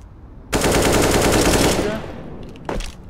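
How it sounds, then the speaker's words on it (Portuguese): A burst of rapid automatic gunfire in a Counter-Strike-style shooter game, loud and close for about a second and a half before fading, followed by a short second burst. "Atirando em mim."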